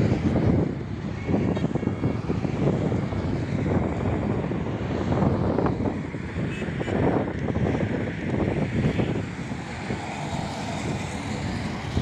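A SpiceJet airplane at Madurai airport roars steadily, its engine noise broad and sustained, mixed with gusty wind buffeting the microphone.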